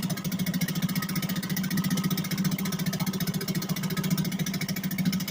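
A 1963 Gale-made Sea King 3 hp single-cylinder outboard motor runs steadily at close range, its loud, even, rapid putter holding one constant pace throughout with no pauses.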